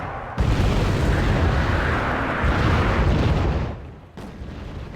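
Artillery fire in the real-time strategy game Wargame: Red Dragon: a dense, continuous rumble of distant blasts and booms that holds for several seconds before easing off.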